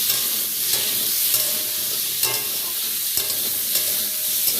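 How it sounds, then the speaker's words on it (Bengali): Potatoes fry loudly in hot oil with a dense, continuous sizzle, broken now and then by the soft knock of a spoon stirring. "আলুগুলো ভেজে নিই আগে"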